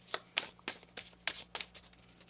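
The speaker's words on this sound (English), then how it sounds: "One more shuffle here" Tarot cards are shuffled close up in quick riffling bursts, about eight soft crisp flutters in an uneven rhythm, quiet and without any talking.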